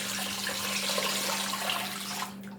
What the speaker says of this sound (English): I'm just going to pour that right over that frozen chicken.